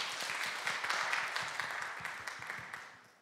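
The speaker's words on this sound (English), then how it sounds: "There you go, you can clap for them." An audience at a college jazz concert gives faint applause for a guitar trio, scattered distinct claps that swell briefly and then taper off at a distance.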